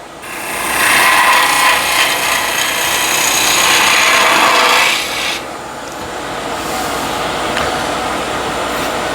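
Skew chisel shaping spinning wood on a lathe for a twig pot, a loud close rushing scrape that holds for about five seconds, then drops to a softer steady hiss of the turning workpiece.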